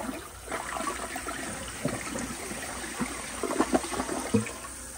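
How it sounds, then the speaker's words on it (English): A 2000s Vortens Vienna elongated toilet with a glazed trapway flushes nearby, giving a rushing gush of water that swirls and gurgles steadily for several seconds, with no talk over it. "here is another flush"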